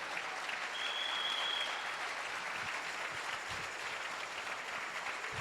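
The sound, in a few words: congregation applauding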